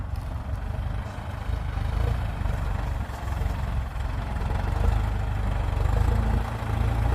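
A Massey Ferguson tractor idles in a sugarcane field at the end of the planting season, its engine giving a steady, low, rumbling drone that holds an even level throughout with no speech.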